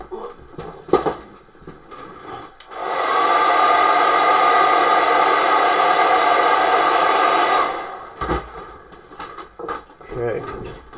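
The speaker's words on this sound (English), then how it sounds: "So I'm going to hit this with a hairdryer." A hairdryer blows on freshly applied paint in a steady, loud whoosh of about five seconds, preceded and followed by brief handling clatter and a voice talking.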